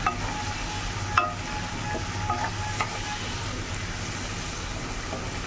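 Spice powder frying with dried fish (shutki) in a pan on a gas stove: a steady, close sizzle with occasional sharp scrapes and clinks from stirring.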